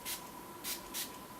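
Three short hissing bursts of Wet n Wild makeup setting spray from a pump sprayer, close and fairly quiet, evenly spaced with a faint steady tone underneath.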